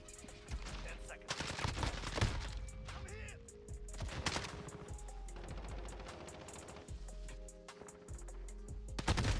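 Rapid AK rifle bursts in a tactical shooter game, firing 5.45 rounds during a factory night raid, come in repeated loud volleys with short gaps, mixed with other in-game effects and some talk.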